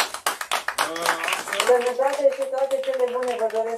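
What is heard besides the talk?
audience applause at a fundraising event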